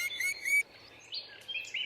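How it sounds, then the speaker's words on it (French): A flock of birds in a stage play, several bright chirps and tweets in quick overlapping bursts, close and fairly clear, with no talking over them. "Une vraie cohue d'oiseaux."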